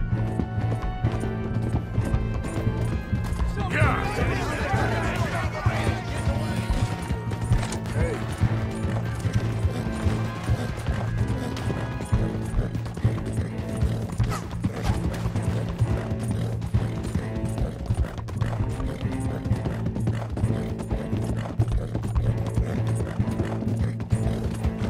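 Galloping horses in Red Dead Redemption 2 pound out a dense, continuous clatter of hoofbeats with mechanical rattling and a few whinnies, loud and close for the whole stretch.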